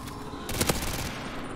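Rapid machine gun fire in the Modern Warfare 3 Zombies video game, a dense loud burst of shots for about half a second amid continuous game noise, with no talking.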